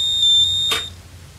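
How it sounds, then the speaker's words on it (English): A plug-in socket tester buzzes once the power to the circuit is cut, a steady high electronic tone that sounds for about half a second, ends with a short burst of noise, then fades. "the buzzer goes off"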